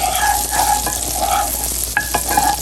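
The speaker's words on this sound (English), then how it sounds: "I'm going to add 2 cloves of garlic and about 1/4 teaspoon of red pepper flakes." Two cloves of garlic and red pepper flakes sizzle loudly in hot melted butter in a pan, a steady close frying hiss with occasional stirring scrapes and clinks.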